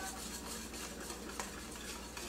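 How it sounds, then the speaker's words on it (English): Alfredo sauce with cheese being stirred in a pot, a faint steady low bubbling and soft scraping of a utensil, quiet and without talk. "we're just going to give it that good stir so it's all well incorporated."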